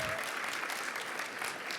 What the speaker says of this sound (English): deserves a big clap